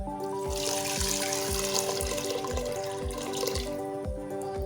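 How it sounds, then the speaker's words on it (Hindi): Water streams steadily into a metal pot with a continuous splashing pour, close by, over a faint repeating rhythmic background. "दो गिलास हम इसमें पानी ऐड करेंगे,"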